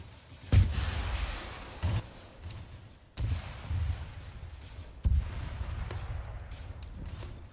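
Rocket launcher fire in the video game Arma 3, with several sharp heavy booms spaced a second or more apart, each trailing into a rumbling tail over steady background noise.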